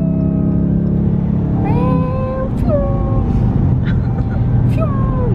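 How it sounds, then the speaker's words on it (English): Car racing through city traffic, a steady low road and engine rumble heard from inside, with high gliding vocal sounds over it. "we're kind of racing through traffic right now"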